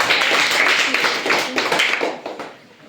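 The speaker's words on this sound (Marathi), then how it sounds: "प्रगतीसाठी सगळ्यांनी टाळ्या" Schoolchildren at a primary-school quiz clap for a classmate named Pragati, a dense burst of many small hands close by that thins out and fades toward the end.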